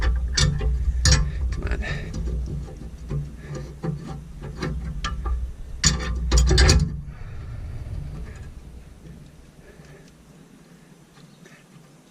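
A bolt is threaded onto a brace with a lock washer during a Jeep Wrangler JK front track bar brace install, giving close metallic ticks, clicks and rubbing scrapes that fade into quiet, with a brief mutter partway.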